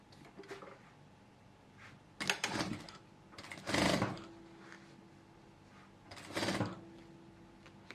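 A sewing machine stitches a jacquard babydoll gown in several short runs with quiet pauses between them, close and fairly soft, with no talk.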